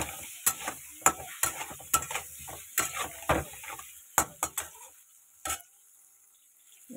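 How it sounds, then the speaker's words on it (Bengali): Potatoes fry with turmeric in a pan, stirred with a utensil that scrapes in a series of close, uneven strokes over a low sizzle, before the pan goes quiet. "এটাকে একটু লাল লাল করে ভেজে নেবো"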